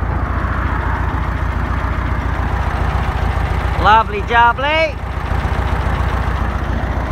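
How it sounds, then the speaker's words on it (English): A 1969 VW Beetle engine idles with a steady, low, lumpy rumble throughout, close by; someone briefly speaks over it partway through. "The engine is purring lovely."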